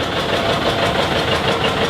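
A 1958 John Deere 820 tractor engine runs steadily at a parade of power, a constant low rumbling drone with no voices, heard close and fairly loud throughout.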